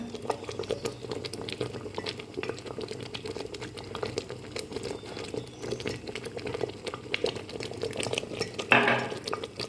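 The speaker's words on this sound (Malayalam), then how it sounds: "ഇത് തിളച്ചിട്ടുണ്ട്" A pot of drumstick-leaf porridge bubbles steadily on a stove with a soft continuous burble and patter, and a brief brighter clink near the end. It is fairly quiet and there is no speech.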